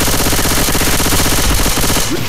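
Rapid automatic gunfire from Left 4 Dead 2 rattles on without pause, loud and dense from start to finish, with no talking over it.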